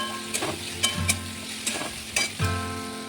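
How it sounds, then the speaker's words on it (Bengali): Potatoes sautéed in a spice masala for a Bengali fish curry, with a steady sizzle broken by several sharp scraping stir strokes. The stirring is close and fairly loud, and no one speaks. "এরপর আলুগুলো দিয়ে বেশ ভালো করে কষিয়ে নেব।"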